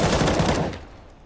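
A quick burst of automatic M4 rifle fire in Counter-Strike rattles loudly and up close for about half a second, then cuts off and fades into quiet.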